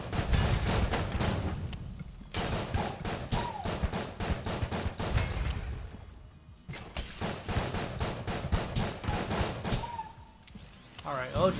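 Gunfire and grenade blasts in the video game Enter the Gungeon: dense bursts of rapid shots pile up with brief pauses and thumping explosions, loud and close throughout.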